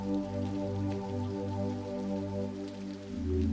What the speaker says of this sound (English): Either the pattern of rain